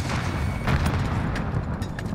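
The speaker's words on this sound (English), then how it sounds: "Throwing frag grenade." A frag grenade detonates in the Warzone video game, producing a loud, dense boom whose rumbling blast and scattered crackle fill the full two seconds with no talk.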